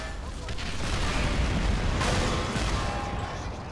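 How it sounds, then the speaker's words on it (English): An artillery shell explodes in the World War II strategy game Men of War: Assault Squad 2, a loud, sustained booming rumble with crackling debris that swells and slowly fades. "Watch out for explosion!"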